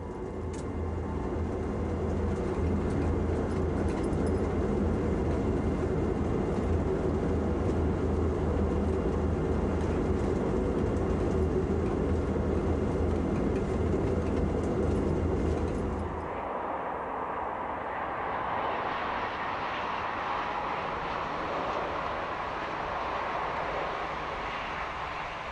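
An ICE1 high-speed train runs at 250 km/h, a steady loud rumble and rushing roar that continues unbroken, shifting sharply to a brighter, hissing wind noise around the sixteen-second mark.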